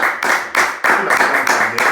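A church congregation claps in acclamation of the Holy Spirit, with about seven loud, sharp bursts of clapping in a steady rhythm and faint voices underneath.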